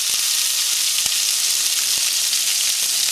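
Sockeye salmon skin fries over high heat in a pan, giving a loud, even, hissing sizzle with a few faint pops, close up and unbroken.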